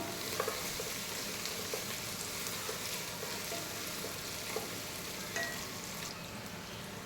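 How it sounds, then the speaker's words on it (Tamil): Onions sautéing in a pan for mandi biryani give a steady, close sizzle with faint stirring scrapes now and then and no voices. "ஆனியன் நல்லா வதங்கட்டும்."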